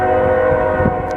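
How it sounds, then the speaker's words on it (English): A train passes at close range, its horn blaring in a loud, sustained blast with a steady rumble beneath, recorded at a digging site. "just in time to quit for the train."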